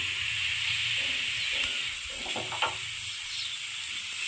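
Oil sizzles under a dosa frying on a pan, a continuous hiss with faint crackles and light scraping near the middle of the clip.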